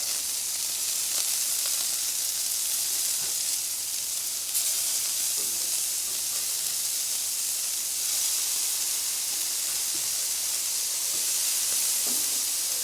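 Chicken smash burgers frying on a hot griddle, a loud, continuous sizzling hiss close by with faint pops and crackles, steady from start to end without talk.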